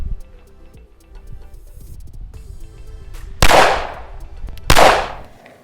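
Two sharp, loud gunshots from a custom Glock 45 pistol at a shooting range, close and widely spaced, following a stretch of low clattering background noise.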